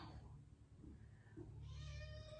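A single drawn-out, plaintive meow from a cat, fairly close, over a low steady hum.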